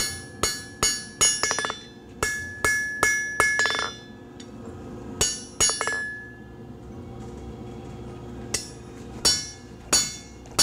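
A blacksmith hammers hot steel on an anvil over a coal forge, shaping the nose of a horse figure with half-on, half-off blows: sharp ringing metallic strikes, close and loud, in quick bursts separated by short pauses.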